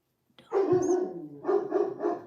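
A pet dog barks nearby, first with a longer bark and then with three quick barks in a rhythmic burst. The barking is clear and alone, with no voices.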